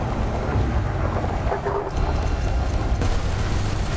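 A drone ship explodes in the space combat game Elite Dangerous, a deep rumbling boom with a crackling, thunder-like roll that swells and fades over a steady low drone, with no talking.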